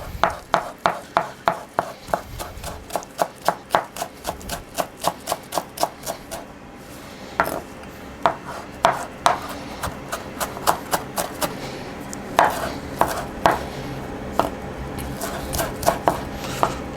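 A knife chops flat-leaf parsley on a cutting board in rapid, regular close taps. There is a short pause, then the chopping resumes in a looser, uneven rhythm with occasional heavier knocks.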